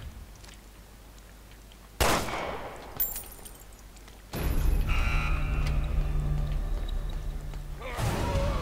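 A sharp, loud gunshot cracks in the game Resident Evil Revelations 2, followed by a heavier impact and a lingering mechanical rumble, then another burst near the end over quiet ambience.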